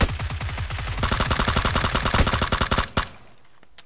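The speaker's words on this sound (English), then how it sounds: "Manny Pacquiao all the way down there is taking shots at me because he sees me" Gunfire in PUBG from an enemy player down below, rapid repeated shots in steady bursts, loud and sharp, ending abruptly with one final crack before quiet.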